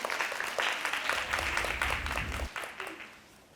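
Audience applause fills a conference workshop room, a dense steady clatter of many hands clapping for about two and a half seconds before thinning out and fading, with a few scattered claps at the end.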